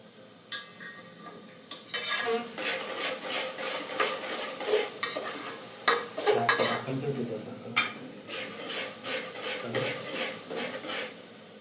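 Onion frying in oil in a pan, stirred with a utensil that scrapes and clatters against the metal in quick irregular strokes over a soft sizzle, close and fairly loud, part of a spicy chicken biryani.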